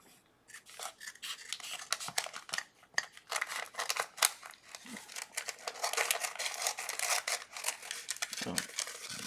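Small scissors snipping through an infusible ink sheet at close range, a string of faint, quick crisp cuts and rustles of the sheet, no talking.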